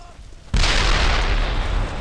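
A Panzer IV tank blows up in the video game Brothers in Arms: Earned in Blood, a sudden loud, heavy blast that roars on as a sustained rumbling wash after a quiet lead-in.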